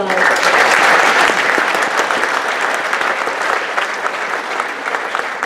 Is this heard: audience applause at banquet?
yes